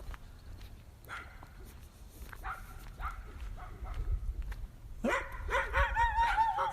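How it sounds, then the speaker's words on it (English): Two or three dogs bark outdoors at dusk, first distant scattered barks and yips, then a closer, louder burst of barking over the last couple of seconds. "how many dogs are out there? 2 or 3. Two we hear."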